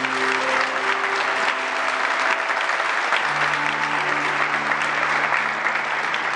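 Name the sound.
church congregation applauding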